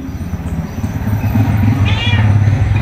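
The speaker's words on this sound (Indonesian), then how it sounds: "Kelihatan ada kucing keluar dari pintu." A cat meows near a doorway, a drawn-out, loud cry that swells and rises over a low steady background hum, heard alone with no talk.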